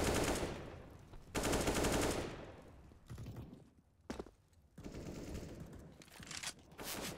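Rapid automatic gunfire bursts in Counter-Strike on the Mirage map, loud sustained volleys broken by short pauses and single sharp shots.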